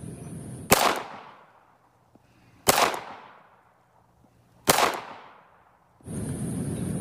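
A toy Mark pistol fires three sharp, loud cracks spaced about two seconds apart, each snapping up and fading quickly, with quiet between shots and a hiss of background noise at the start and end.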